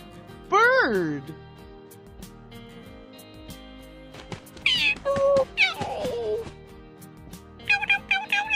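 A cat gives a clear, rising-and-falling meow near the start, followed by more meows and other animated sounds, with a voice speaking a few letters and words in between.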